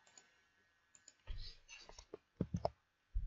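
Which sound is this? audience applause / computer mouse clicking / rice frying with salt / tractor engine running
computer mouse clicking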